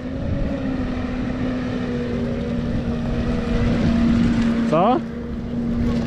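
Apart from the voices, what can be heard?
tractor driving slowly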